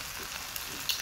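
Vegetables frying in a pan give a steady, soft crackling sizzle with small pops and sputters throughout, with no one talking.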